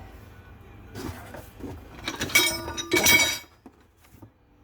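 Metal wet bolts and nuts from a greaseable trailer spring hanger kit clinking together as they are handled and counted, a few close, bright rattling clinks bunched in the middle of a quiet stretch.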